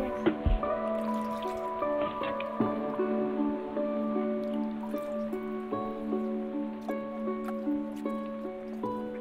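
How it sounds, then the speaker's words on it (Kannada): Running water trickles and drips steadily while cabbage coated in masala is rinsed in a kitchen, close and moderately quiet, with occasional soft splashes and no talk. "ಇದನ್ನು ನೀರು ಹಾಕಿ ತೊಳ್ಕೊಂಬಿಡೋಣ"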